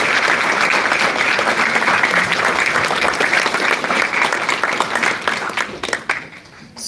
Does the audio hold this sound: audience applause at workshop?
yes